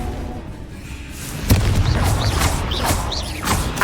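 Confringo blasting spell in the video game Hogwarts Legacy: a booming impact hits at about one and a half seconds over continuous rumbling combat noise, with fainter crackling bursts after it.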